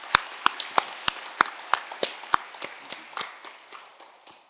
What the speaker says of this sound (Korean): 우리 앞으로 좋은 찬양 기대하며 한번 박수 한번 크게 하시겠습니다.